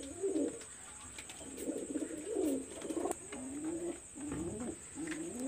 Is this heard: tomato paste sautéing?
no